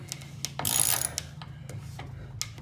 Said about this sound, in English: Get our 1/2 inch ratchet. Tighten it up.